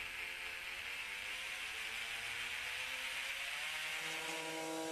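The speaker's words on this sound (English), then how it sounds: "This sander's special feature is its triangular sanding pad, which oscillates at a certain angle around the plate center." A Proxxon oscillating delta sander with a triangular pad runs continuously at a steady, high-pitched buzzing whir, close and loud, with no voices.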